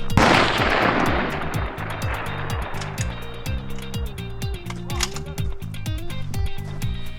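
A rifle fires at upper-body and head targets 100 yards away on an outdoor range at Thunder Ranch. A loud blast opens the clip and rings out, followed by sharp clicks, with no talking.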